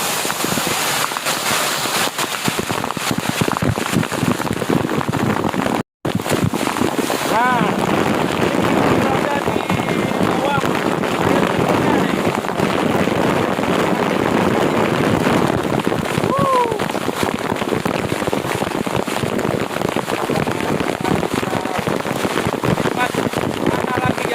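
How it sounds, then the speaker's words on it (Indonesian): Seulawah Dara waterfall in Aceh, heard from right inside the falling water: a loud, continuous rushing roar that is up close, with one brief dropout partway through. "ini saya coba bawa ke dalam air terjunnya"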